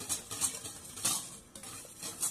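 Spoon stirring yeast in liquid to dissolve it in a bowl, a close, soft swishing with light scrapes and a few faint clinks repeating every half second or so.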